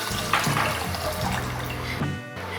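Water is poured into a pan of sugar for syrup, a continuous splashing pour over about two seconds that stops abruptly near the end.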